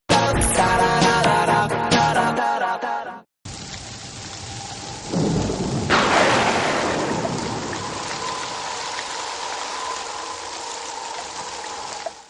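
Heavy monsoon rain pours steadily, and a loud, close thunderclap breaks out midway, then rolls off into a long rumble beneath the continuing downpour.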